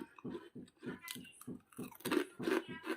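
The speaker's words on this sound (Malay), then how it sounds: "Kita dengar Cik Su makan." Someone chews a crunchy snack close up in an evenly paced run of about ten bites, each with a distinct crisp crunch and no talking.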